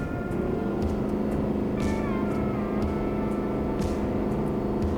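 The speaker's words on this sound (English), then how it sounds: "Letting that engine brake work." A heavy Ford PowerStroke diesel truck engine drones steadily and loudly on a steep descent with a deep, rumbling engine brake, a faint higher whine rising and falling above it.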